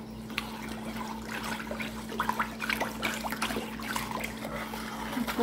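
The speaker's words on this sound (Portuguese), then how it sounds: "Vou mexer até que dissolva tudo por completo, até que essa água fique transparente." Liquid OMO detergent is stirred into water with a spoon, giving light sloshing, trickling and clinking sounds in an irregular rhythm over a steady background hum.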